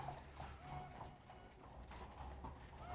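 Horses drawing a royal carriage in a ceremonial parade give a faint, distant, steady clip-clop of hooves under crowd noise.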